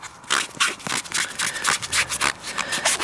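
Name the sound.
rubbing restoration product onto headlight pad with fingers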